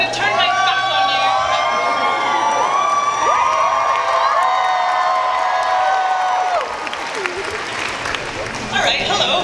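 A crowd at a Phoenix Comicon panel cheers, claps and whoops loudly and continuously, with shouts and high voices rising over sustained applause.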